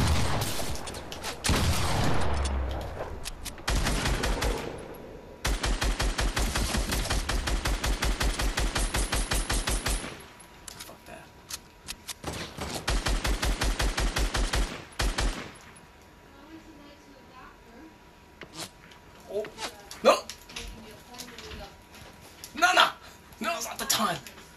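Gunfire in the Fortnite video game comes as long, loud bursts of rapid automatic fire in the first two thirds, then scattered single shots and short volleys, with people talking over the later part.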